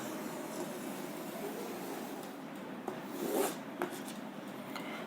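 A pen draws a line across a graph on paper during an algebra lesson, one short, soft scratching stroke over a quiet hiss, with no talk.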